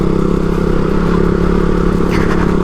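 Motorcycle engine on a winding mountain road in Upper Mustang, a loud, close, steady drone with rattling and clatter throughout, and no voices.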